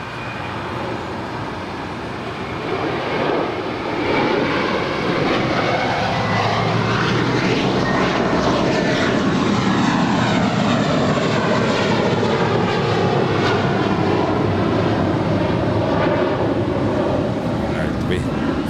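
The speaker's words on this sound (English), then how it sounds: "That was JetBlue 288 departing to Boston." A JetBlue airliner departs LAX with a loud, sustained jet roar that builds and holds throughout, broad and close, with no voices over it.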